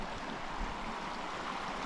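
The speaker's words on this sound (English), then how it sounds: "Half Moon Creek" Steady broadband rush of a mountain creek, Half Moon Creek near Mount Elbert, flowing continuously and evenly near the microphone with no voices.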